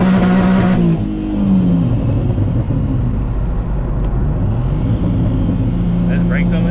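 Turbocharged Nissan 370Z accelerating hard, a loud, close engine roar with rising harmonics and a brief high whine near the end, filling the whole stretch with continuous drive noise.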